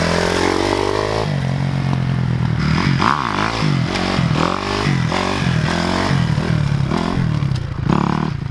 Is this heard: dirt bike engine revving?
yes